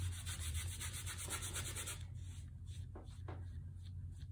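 A brush spreading a thin layer of varnish over a painting makes a soft, steady rubbing swish in close quiet strokes, easing off into lighter intermittent touches partway through.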